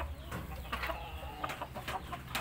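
An Indio Gigante hen clucks close by in short, irregular bursts over a low background hum.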